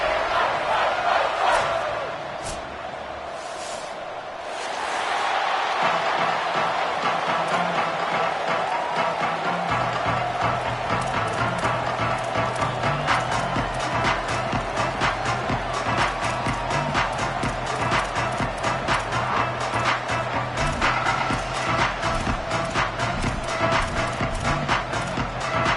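A football stadium crowd roars at the season-opening kickoff of a Hurricanes college game, a dense, steady wall of cheering and chatter that holds loud and unbroken throughout.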